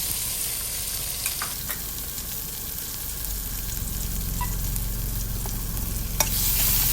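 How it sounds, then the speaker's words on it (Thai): Chili and garlic stir-fry in a little oil in a pan, a constant crackling sizzle close by with intermittent scraping stirs, swelling louder toward the end. "ผัดพริกกระเทียมให้หอมนะครับ"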